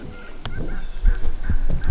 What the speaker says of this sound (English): There's a flock of wild turkey in my front yard.